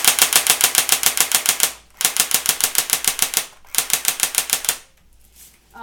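Fully automatic bursts from a Pulse R71 airsoft gun: three rapid, loud rattling strings of shots, each lasting about two seconds with brief pauses between, recorded up close with no talking.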